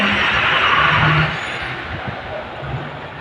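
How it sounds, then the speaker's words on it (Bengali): A truck's engine rumbles close by while strong cyclone wind rushes around it, a loud, continuous roar that eases slightly after the first second. "ট্রাক বেশি দূরে যেতে পারছে না বাতাসের কারণে।"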